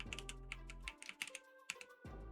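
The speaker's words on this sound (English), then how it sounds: "We're actually typing in what these right here are." Quick bursts of typing on a computer keyboard, close and crisp individual key clicks in an uneven rhythm, with a steady low hum that drops out partway through and then returns.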